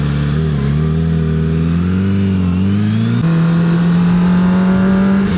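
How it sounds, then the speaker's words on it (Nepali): Steady engine drone from a Kawasaki Ninja ZX25R with its liquid-cooled DOHC inline four-cylinder, heard while riding on a road through greenery, holding a loud even tone that climbs slightly before stepping to a higher steady pitch. "यो चाहिँ कावासाकीको इनलाइन 4 सिलिन्डर DOSC लिक्विड कुल इन्जिन हो हैन।"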